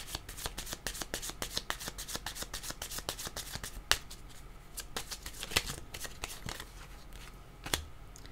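Tarot cards being shuffled by hand, a close, steady run of rapid papery riffles and flicks that continues for the whole stretch with no voices.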